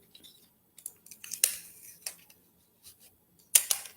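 Clear plastic tape crackles and rips in short bursts as it is pulled from the roll, close and quiet, while a paper harmonica is built on popsicle sticks.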